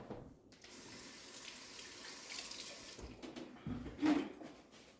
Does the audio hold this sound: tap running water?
yes